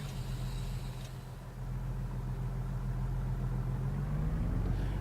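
A truck's standard engine idles in American Truck Simulator, a steady low rumble with a faint higher whine that creeps upward near the end, heard alone without speech.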